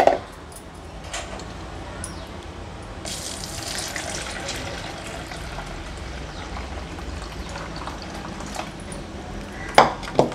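Water runs and pours steadily as it drains from soaked rice, a close, continuous splashing gush with a couple of sharp clinks near the start and end.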